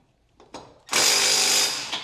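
Impact wrench loosening bolts on Subaru STI brakes, a couple of short blips and then a loud, steady high-pitched rattling whir held for about a second, close by.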